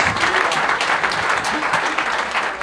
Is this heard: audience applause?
yes